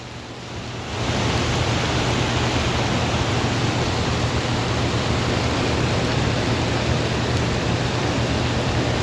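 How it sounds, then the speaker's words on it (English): Torrential rain pours down steadily on a farm, starting abruptly after a second of quiet and then holding as a loud, dense, unbroken hiss to the end. "It's been a while since I've seen it rain like this."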